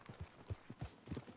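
Horse hooves clip-clop at a steady trot in the Red Dead video game, a faint, regular run of soft thuds repeating about every quarter second.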